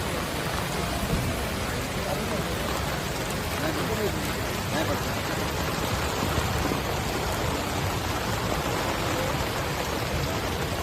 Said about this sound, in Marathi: आदरणीय रोहित दादा पावसात आहे बघा.